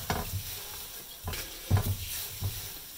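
Puffed rice and lotus seeds being stirred in a pan while roasting, several short scraping sweeps spaced about half a second apart over a soft steady rustle, close and clear.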